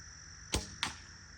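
Arrows from a bamboo SiCai bow by AF Archery striking a target: two quick sharp thwacks about a third of a second apart, close and clear against a quiet outdoor background with no talking.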